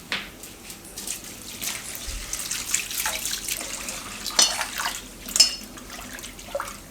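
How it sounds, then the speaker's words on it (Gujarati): Flattened rice (poha) is washed in water, with soft sloshing and splashing and a few sharper splashes, close and fairly quiet with no talk. "તો પૌવાને આપણે એકવાર ધોઈ નાખીશું."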